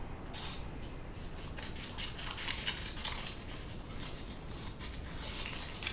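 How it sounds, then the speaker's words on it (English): Paper being cut with scissors during a children's storytime craft, heard as a steady run of soft snipping and rasping strokes close by over a constant background hiss, with no talking. "And I'm gonna cut that out."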